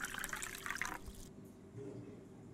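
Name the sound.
pouring clear water into a steel pot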